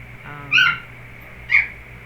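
A tiny puppy lets out two short, high-pitched whines about a second apart, fairly close, over a faint steady hum with no talking.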